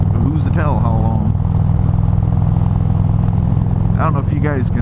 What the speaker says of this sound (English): I don't know if you guys can notice, or if you can tell the exhaust note change and a little bit of a bark from the airbox.